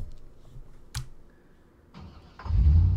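Hotwired car in the zombie survival game Project Zomboid, with a few faint clicks and a short whir of cranking before the engine catches and settles into a loud, rough idle.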